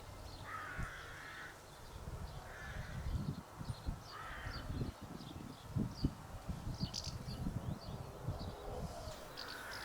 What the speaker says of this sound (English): we got wind in the back and noisy crows in the background.